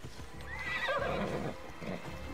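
A horse in Assassin's Creed Odyssey on PS4 Pro gives a loud, close whinny, its pitch sweeping down over about a second, with hoof clops and rumbling movement around it. No one talks.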